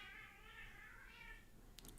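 Cats fight with a drawn-out wavering yowl that rises and falls, heard faint and somewhat distant, ending in a few sharp hissing bursts.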